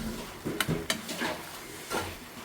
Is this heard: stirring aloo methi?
yes